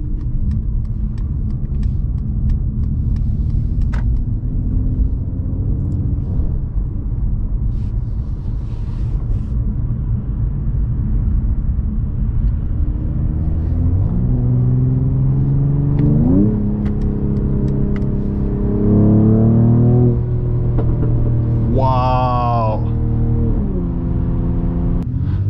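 A 2022 Mercedes-AMG CLS53 facelift rumbles steadily, then its engine tone rises and falls through rev changes after dropping from fifth to second gear, loud and close with no talking.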